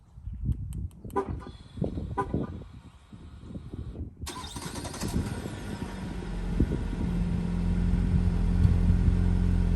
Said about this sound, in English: We got a cold start on a 2020 Jeep Cherokee Limited.